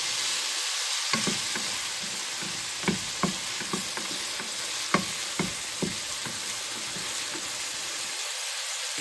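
Shrimp sizzle steadily in a hot pot for fried rice, with a continuous frying hiss broken by repeated sharp spatula scrapes and taps, close and moderately loud, no talking.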